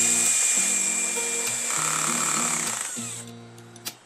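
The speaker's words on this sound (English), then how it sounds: "So once it reaches that end, you hear that ratcheting sound." A cordless drill drives screws into wood while building an Adirondack chair, its motor whining at shifting pitches before the clutch slips into a ratcheting buzz, close and loud.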